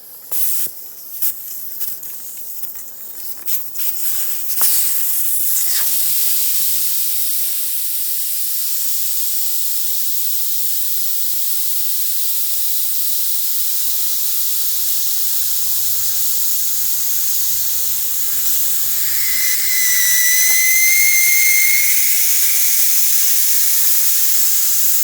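Air rushing out of a car tire's valve stem after the core is pulled, a loud, steady hiss that starts abruptly after some handling noises and holds for about twenty seconds.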